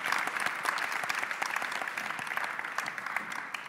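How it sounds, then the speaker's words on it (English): An audience at a talks event applauds steadily throughout, a dense wash of many hands clapping at moderate distance with no speech. "So give a round of applause."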